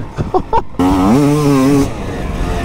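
A motorcycle engine revs up sharply and climbs in pitch, loud and close, lasting about a second before dropping back to a rough idle, with a few short bursts of engine noise just before it.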